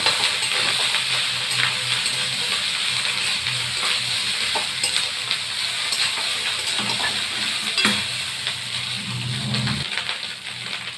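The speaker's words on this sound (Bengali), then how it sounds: "তারপর একটু নাড়িয়ে নেব।" Egg curry with turmeric is stirred in a pan, soft sizzling under scattered metallic clinks and scrapes of a utensil against the pan, close and without speech.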